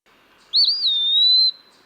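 An Eastern Wood Pewee sings a single clear, slurred whistle from fairly close by, rising sharply and then holding a long, level note before stopping, against a quiet woodland background.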